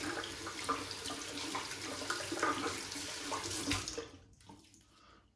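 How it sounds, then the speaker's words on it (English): A bathroom tap runs steadily while a shaving brush is rinsed under it during a wet shave, a soft continuous splashing stream that stops near the end. "Okay, let's rinse the face. I'll even clean my brush out here."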